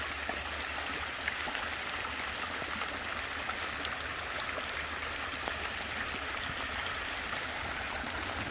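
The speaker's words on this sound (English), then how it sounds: "So we get this nice little waterfall as it comes down." Runoff water washing down from a road onto a property and over a small waterfall, a continuous steady rushing and trickling flow, even and unbroken throughout.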